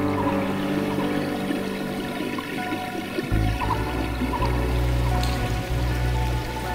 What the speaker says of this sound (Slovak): Vody v potôčiku je habadej.